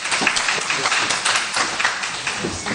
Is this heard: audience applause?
yes